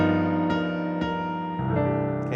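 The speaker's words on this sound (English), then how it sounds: "this is the sound of multiple chord alterations" A jazz piano chord with several altered tones is struck and rings out, restruck on a pulse, then shifts to a new voicing near the end. Close and sustained, with no talking.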